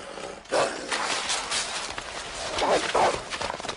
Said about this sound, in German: Das ist ein Hund.